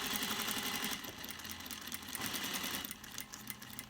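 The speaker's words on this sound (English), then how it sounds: "Reverse stitching at the beginning of your seam allowance to tie down your threads." A sewing machine stitching the seams of a fabric face mask, including reverse stitching at the start of the seam: a steady close mechanical whirr with rapid needle rhythm, pausing and restarting, and no talk.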